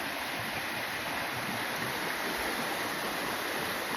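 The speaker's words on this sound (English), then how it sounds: "And even with just a couple hours of rain so far, creeks are filling up." A creek swollen with a couple of hours of rainwater rushes steadily, a dense, even broadband roar of flowing water heard close and alone, with no voices.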